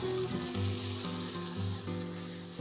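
Tomato puree made from two ground tomatoes sizzles in hot oil for an egg bhurji curry, giving a steady, close frying hiss with a faint hum beneath it.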